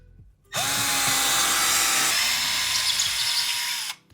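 A power drill drives a screw into a wooden wall stud in a garage, one loud, close, steady whir of about three and a half seconds that starts and stops abruptly.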